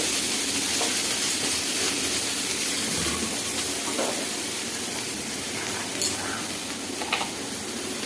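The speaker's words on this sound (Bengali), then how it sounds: "এবার এই মশলাটা আমি ভালো করে ভেজে নিচ্ছি।" Spice mixture frying in a pan for a soft, fluffy afternoon snack made with wheat flour and semolina, giving a steady, close sizzle and hiss that runs the whole time, with a few faint clinks of stirring.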